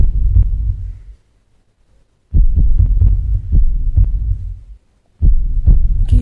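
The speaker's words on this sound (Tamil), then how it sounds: "ஹார்ட் பீட் சவுண்டாக கேட்டுட்ருக்கு." A heavy, muffled heartbeat from the Max Payne video game thumps in paired beats at a steady rhythm, loud and booming with a brief silent gap partway through, and no voices over it.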